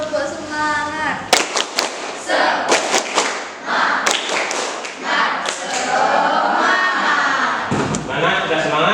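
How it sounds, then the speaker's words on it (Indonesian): A school class in a lesson performs the tepuk semangat clapping chant together, giving sharp rhythmic claps and slaps mixed with chanted voices, loud and close. "bagaimana kalau kita tepuk semangat?"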